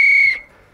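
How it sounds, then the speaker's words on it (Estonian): A referee's whistle is blown once, a loud, steady shrill blast lasting about a third of a second that cuts off and trails into faint background noise. "Vaata, kas töötab ka või kuidas sa vilistad?"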